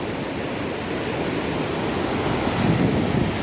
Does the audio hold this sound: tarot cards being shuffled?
no